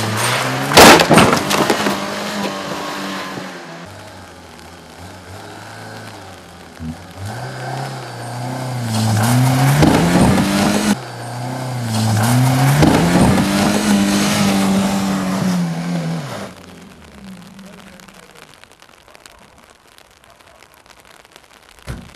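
A car revs and strains while pulling a steel cable fixed to the solid steel rear axle of another car, engine rising and falling in two long surges, then a loud impact and quieter rumble.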